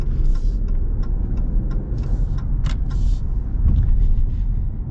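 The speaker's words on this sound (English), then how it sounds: "we'll get an acceleration here with the inline 6." A 2025 Ram 1500 pickup with an inline-six engine accelerates, a steady low engine rumble heard from inside the cab, with light clicks and rattles above it, fairly loud and without talk.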